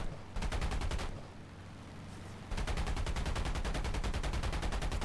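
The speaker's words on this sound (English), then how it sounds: "Cool down the machine guns a bit. Be careful not to overheat them. Resume firing." Wildcat fighter machine guns in War Thunder, two long rapid bursts of loud, evenly spaced shots separated by a brief lull of engine drone, close and dominant.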